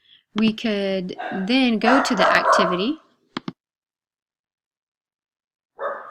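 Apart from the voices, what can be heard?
dog barking in the background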